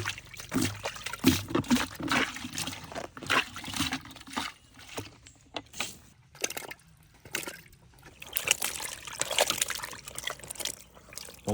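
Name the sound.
washing cashew apples in water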